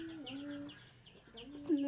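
Chickens cluck nearby in short, bursty calls, with a louder squawk near the end and faint voices underneath.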